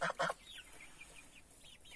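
A hen gives a few short, close clucks at the start, followed by softer chirps and peeps in an otherwise quiet space.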